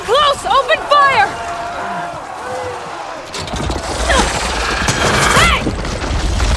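Gunfire rattles in Horizon Forbidden West during a fight with a huge machine creature, rapid shots and mechanical clanks surging in the second half, with a voice calling out over the battle noise.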